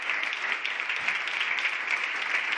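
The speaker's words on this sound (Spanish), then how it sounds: "Aplausos para Salvador Illa en el día después de su victoria electoral." Steady applause from a gathered crowd greets Salvador Illa the day after his election victory, sounding even and sustained at moderate distance, with no pauses.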